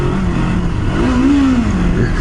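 A Kawasaki Versys-X 300 twin-cylinder motorcycle engine rumbles steadily up close with a low, throaty drone and a slight rise in pitch partway through.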